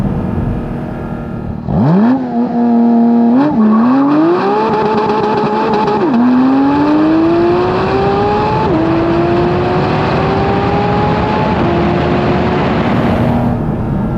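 A loud naturally aspirated 2023 Porsche 718 Cayman GT4 RS engine revs and climbs through several gears, its pitch rising sharply with brief drops at each shift, sustained and close.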